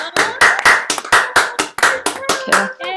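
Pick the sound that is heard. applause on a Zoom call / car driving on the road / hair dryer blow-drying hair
applause on a Zoom call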